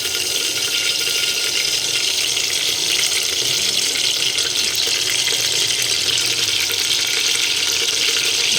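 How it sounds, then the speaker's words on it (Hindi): Mustard seeds crackle and sizzle in hot oil in a home kitchen as kadhi is prepared, a dense, even hiss of frying that runs steadily without pause and with no talking. "राई को चटकने दीजिए।"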